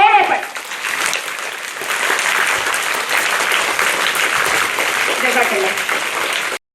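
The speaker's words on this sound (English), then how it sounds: "A big round of applause for all of us" Audience applause at a school parliament ceremony, a loud burst of clapping that holds steady for several seconds before cutting off abruptly, with a voice faintly present at the start.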